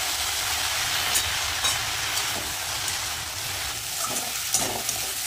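Onion with garlic and green chilli, seasoned with turmeric and salt, frying in a pan ahead of water spinach (kalmi shak) greens, giving a steady, close broadband sizzle with a few brief stirring clicks throughout and no talking.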